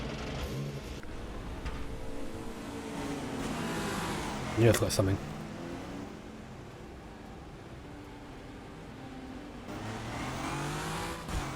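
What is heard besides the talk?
race car engine in a racing simulator video game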